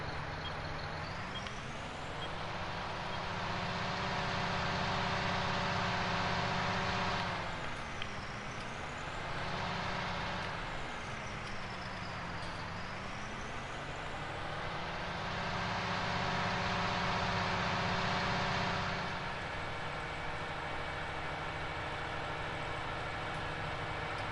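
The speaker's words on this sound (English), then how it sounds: "Engine's much louder than it was before." A tractor engine drones inside the cab in the Farming Simulator video game, loud and steady for the whole stretch. Its pitch sags and recovers several times as the load changes, with no voices.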